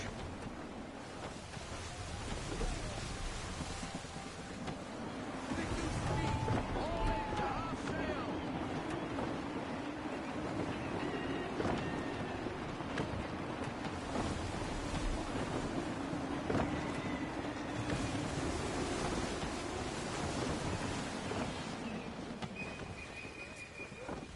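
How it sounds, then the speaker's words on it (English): Gusty wind and rushing sea while sailing in the video game Assassin's Creed 3 Remastered, with a continuous broad roar of wind and waves that swells and eases, plus faint creaks, under occasional speech. "Gusty winds can be difficult to manage"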